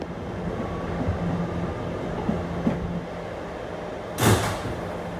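An R211 subway shuttle train runs between Rockaway stations with a steady low rumble of wheels and motors. Faint tonal hums drift over it, and a brief hissing burst, like air brakes or doors, comes near the end.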